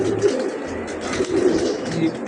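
Racing pigeons in a club loft in Lökbatan, Baku, coo in soft repeated low rolls, close and overlapping, with light rustling among them.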